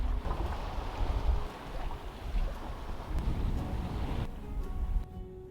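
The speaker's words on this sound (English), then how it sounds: "The wind has been around 10 to 20 knots, and with that and a beam reach, it's quite good." Steady wind noise gusts across the microphone while a sailboat runs on a beam reach in 10 to 20 knot winds near the Caribbean, with a faint wash of water beneath and a sudden drop to quieter air near the end.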